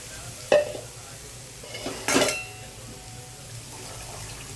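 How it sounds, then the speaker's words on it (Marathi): Spice paste roasting in oil with fenugreek and salt makes a quiet, low sizzle, broken by a sharp utensil knock and a brief scraping stir near the pan. "पाच मिनटं तरी हे वाटण भाजू द्यायचं चांगलं तेलामध्ये"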